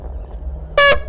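One short, loud horn toot set off on a livestream, a bright honk lasting under a quarter second that breaks into a low, quiet background hum.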